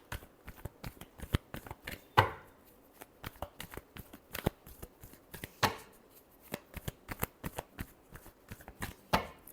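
Tarot cards are shuffled by hand in repeated soft riffles and slaps, with a few sharper snaps. The quiet, close shuffling comes in irregular bursts with no talk.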